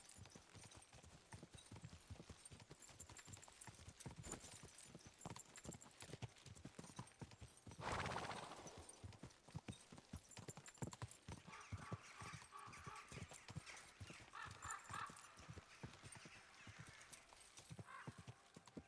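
Horse hooves clip-clopping in the video game Kingdom Come Deliverance, a steady rhythmic trot of hoofbeats close by, with a brief louder burst midway that may be a snort or whinny.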